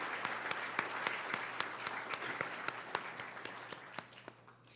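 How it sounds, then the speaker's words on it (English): A modest room of guests applauds the staff at a law center's awards luncheon, a fairly sparse round of clapping with distinct individual claps standing out, moderately close, gradually thinning and fading toward the end. "I want to give a round of applause again to the staff."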